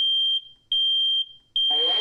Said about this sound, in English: What do you do when the smoke alarm goes beep, beep, beep?